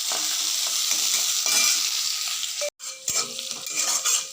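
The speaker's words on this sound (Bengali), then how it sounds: "এবার এটাকে একটু ভাজা ভাজা করে নেব" Chopped onion and garlic fry with ginger and dried chili in a pan, giving a close, steady sizzle broken by scraping stirs, with no talking.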